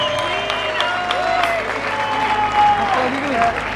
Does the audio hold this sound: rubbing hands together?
no